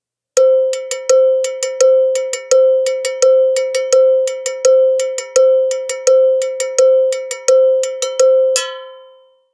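Cowbell (campana) struck in a steady cumbia pattern, bright metallic clanks in a repeating rhythm with accented double hits, loud and close, ending on a ringing final strike with no talking.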